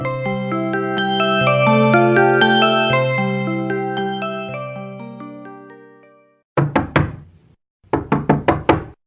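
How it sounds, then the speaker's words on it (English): A bright chiming melody fades out, then two quick bursts of sharp knocking on a door, each a rapid run of raps with a short pause between. "At dinner, there is a little knock on the door."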